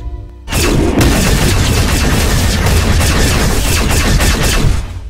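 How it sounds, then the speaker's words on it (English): Sustained, dense gunfire from a Star Wars parody battle, many guns firing at once in a loud continuous barrage that begins abruptly after a brief quiet moment and rolls on without pause. "I want every gun to fire on those two"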